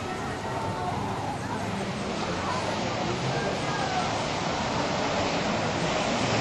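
Ocean waves wash and break at a Southern California kneeboard surf contest, a steady close surf rush under light wind noise, with a voice talking over it.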